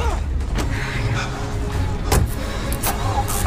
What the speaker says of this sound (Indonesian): Ray dan Emma kemudian pergi menggunakan mobil tersebut